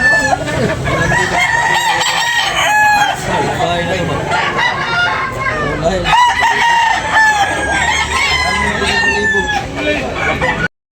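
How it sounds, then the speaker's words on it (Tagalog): Chickens cluck loudly and continuously nearby at a chicken market while a rooster crows several times over the noisy flock. "Wow, manok."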